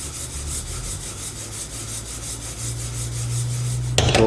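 Roasted flaxseed is stirred and pushed around a hot pan, giving a continuous dry scraping rasp throughout, with a sharper clatter right at the end.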